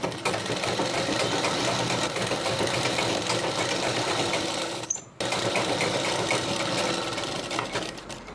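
A sewing machine stitches the folded edges of a goddess idol's dress in a fast, continuous mechanical whir, briefly stopping just before the five-second mark and then running on.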